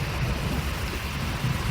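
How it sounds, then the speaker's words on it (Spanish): Steady heavy rain pours down, a dense even hiss with a deep low rumble of thunder rolling underneath throughout. "La lluvia continuó."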